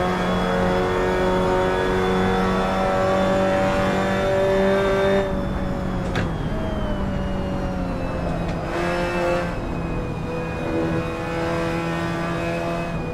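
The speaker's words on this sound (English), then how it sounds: "The car sound and everything" A Mazda MX-5 Cup race car in the Assetto Corsa racing game at Portland International Raceway, its engine droning loudly and steadily as it revs and shifts gears, with no voices over the engine.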